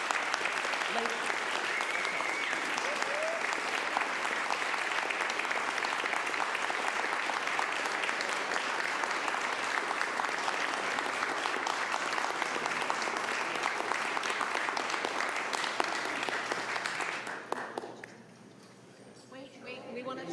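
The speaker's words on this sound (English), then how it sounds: "Please give our wonderful counselors one gigantic, huge applause for all they do in the district." Sustained applause from a school board meeting audience honoring the district's counselors, steady and dense for about seventeen seconds before fading, with some speech mixed in.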